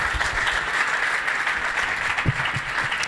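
Church congregation applauding during a Sunday meeting, a continuous burst of many hands clapping at steady loudness, with a few heavier claps or thumps near the end.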